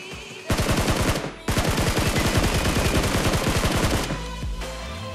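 Automatic gunfire in the mobile battle royale game BGMI, a loud, rapid burst of close-range shots that breaks off briefly and then hammers on for several seconds before stopping, with no talking.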